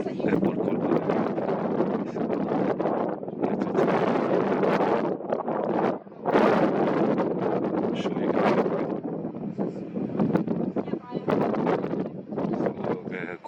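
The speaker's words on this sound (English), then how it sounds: "Tengo que excusar el viento, no el vientazo que hace hoy." Strong wind buffets the microphone at the top of the Rock of Gibraltar, loud, roaring gusts that rise and fall continuously, with a person talking underneath.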